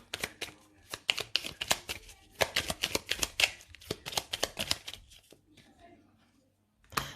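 Tarot cards being shuffled and handled, a rapid run of flicking, riffling snaps close to the ear, pausing briefly before one final card is laid down; speech is faint at most.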